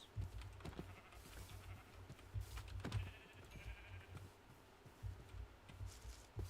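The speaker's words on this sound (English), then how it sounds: "Actually, I do need sheep, though." Sheep in the video game Minecraft bleat several times in short, repeated calls spread across the moment, quiet and fairly close against faint background game sound.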